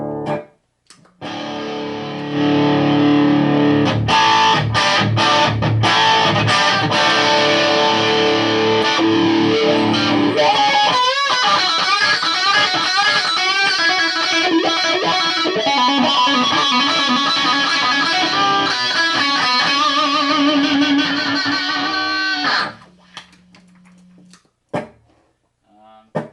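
Electric guitar played through an Orange AD30 head driven by a Boss overdrive pedal gives a loud, crunchy run of chords and riffs that fills most of the stretch, then breaks off near the end into a short low sustained note and quiet.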